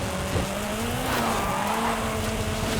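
Forza Horizon 5 car braking hard, with a sustained tire squeal over the engine drone, loud and continuous for a few seconds.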